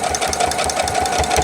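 A sewing machine stitching a yellow strip onto quilted fabric, running close and loud with a fast, steady mechanical rhythm of needle thumps over a constant motor whir.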